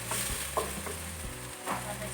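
Chopped onions and tomatoes frying in a tablespoon of oil, a steady close sizzle with a few scraping stirs of a spoon in the pan.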